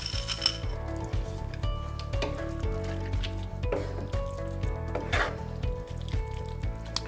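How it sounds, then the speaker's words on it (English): Pasta being stirred into a tuna casserole with melted cheese in a pot, giving soft scraping and clinks of a utensil against cookware over a low steady sizzle, with a few sharper knocks. "Time to add the pasta. Give that a stir."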